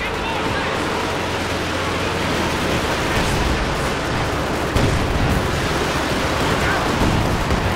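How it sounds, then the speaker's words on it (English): Rocket barrage from a Panzerwerfer in the strategy game Company of Heroes 2, heard as a dense, continuous roar of launches and impacts with a sharp burst near the middle, layered over steady battlefield noise. "A massive Panzerwerfer barrage goes off there"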